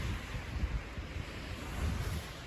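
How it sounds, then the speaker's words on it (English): Strong wind roars at a mountain campsite in the Sandia Mountains, a steady, loud, broadband rush buffeting the microphone with low gusty thumps, with no talking. "It's still really windy"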